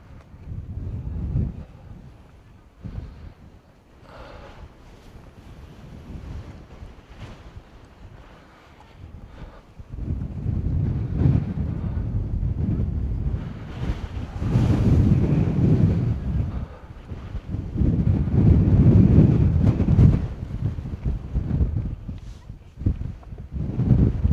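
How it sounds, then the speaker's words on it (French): Strong wind gusting over a mountain summit by the caldera on the Lanzarote coast, roaring and buffeting the microphone in surges that swell louder after the first ten seconds, with no voices. "La force du vent."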